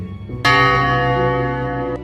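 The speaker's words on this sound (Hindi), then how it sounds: "तभी अचानक नव्या के घर की डोरबेल बजती है।" A doorbell: a single bright bell tone strikes and rings out with a sustained, slowly fading resonance.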